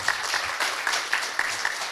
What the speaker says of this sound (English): Let's have a round of applause for Philip.